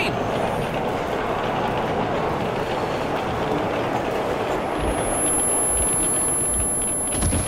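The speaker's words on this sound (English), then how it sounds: "Oh, it's a train!" A train passes in the video game Metro Exodus with a loud, steady heavy rumble and clatter that fills the whole stretch, plus a faint high hiss toward the end.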